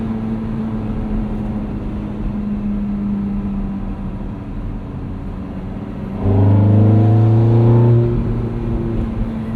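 The V8 engine of a 2008 Ferrari F430 Spider drones steadily at cruise while driving, then swells into a louder, deeper revving surge for a couple of seconds before easing back.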